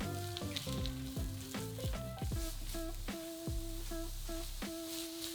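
Diced carrot, celery and chestnut mushrooms fry steadily in a pan, a continuous close sizzle with occasional scraping stirs, no voices.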